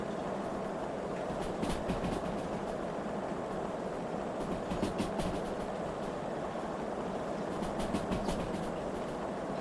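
A 2-8-2 steam locomotive in the Derail Valley game rolls along with its train, a steady low rumble with rhythmic clickety-clack of wheels over rail joints, even and continuous at moderate loudness with no talk.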